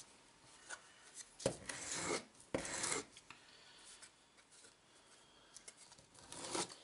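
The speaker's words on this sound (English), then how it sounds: "I'm just shaping the corners off it with a bit of fine sandpaper, smoothing out where I've cut it" Fine sandpaper rubbing the cut corners of a black plastic piece, heard as soft, close scratchy strokes in uneven bursts with quiet pauses between them.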